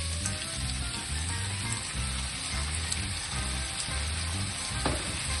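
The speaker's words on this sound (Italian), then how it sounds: "a questo punto io sfumo con del vino rosso" Onions sizzle steadily in a pan just after red wine is poured in to deglaze them, a close continuous frying hiss with occasional stirring scrapes and no talking.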